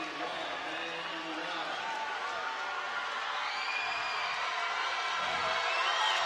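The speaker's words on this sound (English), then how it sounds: "The crowd on their feet. Everyone shouting." A high school boys varsity basketball crowd stands and shouts through a tense regional game's final seconds, a steady, loud, dense roar filling the gym, with cheering swelling slightly toward the end.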